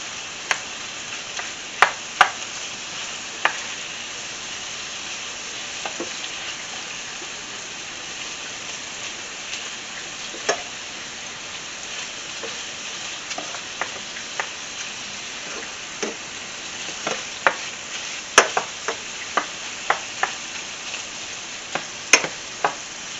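Half a pound of shrimp frying in a pan for shrimp spaghetti, a steady close sizzle broken by scattered sharp pops and ticks of spitting oil.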